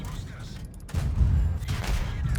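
A tank cannon shot in World of Tanks, heard as a sudden heavy boom that opens into a sustained low rumble of gunfire, loud and near.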